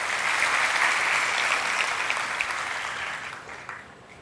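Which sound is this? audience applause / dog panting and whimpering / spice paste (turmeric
audience applause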